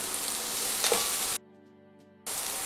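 Vegetables sweating in a pan beside tomatoes, a steady close sizzle that cuts out abruptly for almost a second and then returns just as loud.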